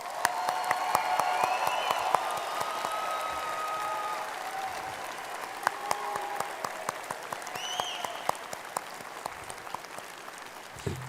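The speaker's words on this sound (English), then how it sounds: "Let's give them a round of applause." Graduation audience applauding the dental hygiene classes of 2020 and 2021 at a college of dentistry ceremony, with sustained crowd clapping across the whole stretch, scattered sharper claps standing out and faint voices mixed in.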